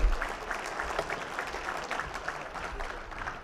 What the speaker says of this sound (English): Let's have one more round of applause for everybody involved in that pitch competition.